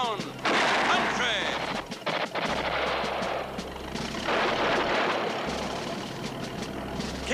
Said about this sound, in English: Keep shooting, men. We got them in a crossfire.